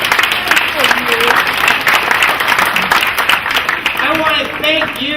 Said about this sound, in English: Let's give another round of applause for both of those guys.